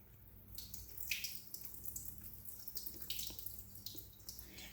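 Rinse water poured off a pot of washed rice for sushi, a steady splashing trickle with low background hum, no voices.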